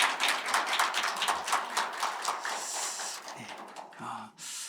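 A church congregation at a Friday prayer service claps together in dense, continuous applause that thins out near the end.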